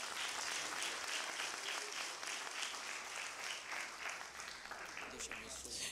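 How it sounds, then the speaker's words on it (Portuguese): Church congregation applauding during a Portuguese-language sermon, a dense, steady wash of clapping hands that continues for several seconds, fairly quiet and distant. "Uma salva de palmas para Jesus."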